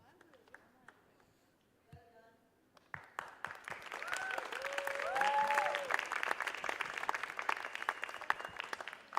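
Applause from a live audience at a TEDx youth event, starting with scattered claps and building into sustained, dense clapping that grows louder toward the middle and carries on to the end, with some voices early on.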